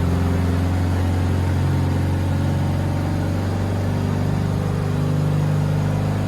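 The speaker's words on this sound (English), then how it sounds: "It sounds like that engine is definitely working to get up the mountain." Volkswagen race car engine labouring up the mountain section of the Bathurst circuit, a steady droning hum that holds a loud, sustained pitch without breaks or voices.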